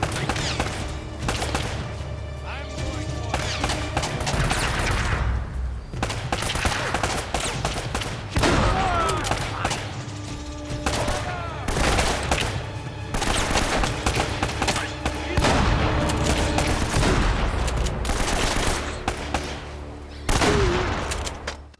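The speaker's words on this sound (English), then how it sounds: "after you guys pick up those 3 easy kills with the shotgun" Shotgun and other gunfire in the video game Uncharted: Drake's Fortune, repeated heavy blasts and rattling bursts over a constant game soundtrack, with dense volleys throughout.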